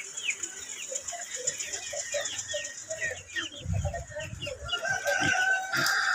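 Backyard farm chickens in the rainy season, with a steady mix of clucking and several crowing calls from nearby birds over a wet, rushing background, plus a brief low thump partway through.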